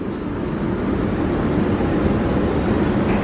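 Steady low rumble of a train at Sant Pol de Mar, Spain, continuous and fairly loud throughout, with no voices.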